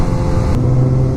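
A 2016 Suzuki GSX-S1000 ABS sportbike engine drones loud and close while riding, a steady dense roar with a deeper tone settling in partway through the short burst.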